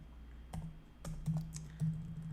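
Keys tapped on a computer keyboard during coding, a few quiet irregular clicks at close range with short pauses between them, no talking.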